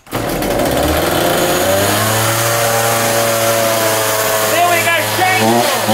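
A Ryobi RCS4240NB two-stroke petrol chainsaw fires up from cold and keeps running, its engine loud and close with a steady buzzing drone and changing pitch for the full few seconds.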